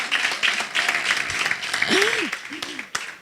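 Audience applause at an international journalism seminar, a crowd clapping steadily at moderate volume while a voice speaks over it briefly.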